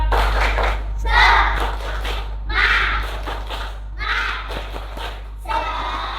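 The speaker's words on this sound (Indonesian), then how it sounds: "Kita tepuk semangat ya. Semuanya tepuk semangat" Classroom of children performing the tepuk semangat clapping chant, with bursts of rhythmic clapping and shouted chant in repeated phrases, close and loud.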